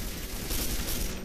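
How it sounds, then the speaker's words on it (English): A grenade launcher fires in the video game Quake 4, a loud, dense, roaring blast that fills the whole moment with sustained rumble and crackle, with no talking. "Grenade launcher has no range at all."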